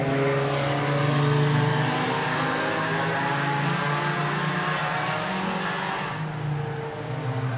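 Race cars running on an oval track during a race, their engines droning loudly and continuously as the cars hold speed through the turns before the noise eases slightly near the end.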